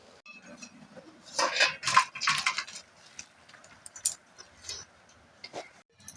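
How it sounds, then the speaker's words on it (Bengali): Cooked banana flower mash being tipped from a pan onto a plate, a few close scraping clatters and soft thuds of metal on dish in a quick burst, then lighter scattered taps. "এবারে আমি এটাকে প্রথমে ঢেলে নেব একটি ডিশেতে"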